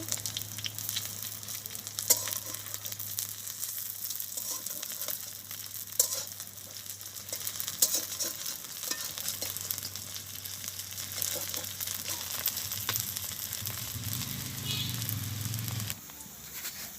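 Water lily fritters, just flipped, frying in hot oil in a village kitchen, give a steady, close sizzle that runs throughout with occasional sharp crackles and spatters, and a low hum underneath.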